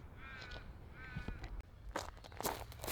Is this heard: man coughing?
no